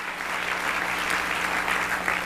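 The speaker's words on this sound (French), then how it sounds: "Applaudissez-les, s'il vous plaît." Steady, dense applause from a live seminar audience in Toronto, many hands clapping evenly and continuously at moderate volume with no talking over it.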